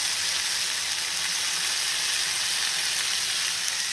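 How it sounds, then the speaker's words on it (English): Pork tenderloin sizzling in a frying pan, a loud, steady hiss that continues without break throughout. "It's cooking. Can you hear it sizzle?"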